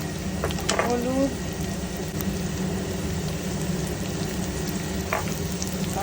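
Spices sizzling in hot oil in a pan while cooking a jackfruit and prawn curry, a steady close frying hiss with brief stirring clinks, and a voice speaking over it.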